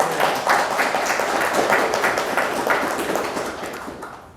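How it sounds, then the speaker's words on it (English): An audience at a university hip hop talk claps and applauds steadily for about four seconds, a dense crowd sound that fades slightly toward the end. "So y'all clap it up for Elliot Guidry one time."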